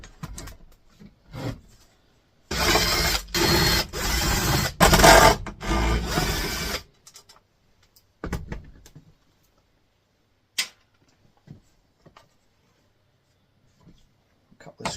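Screws being backed out of an amplifier's transformer mount, a close, loud rasping burst of several seconds of continuous driver whirring, followed by quieter scattered clicks and handling taps.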